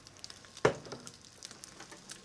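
Quinoa cakes searing in a hot pan, a sharp sizzle as they hit the surface, then a soft, steady frying crackle at moderate volume with no talking.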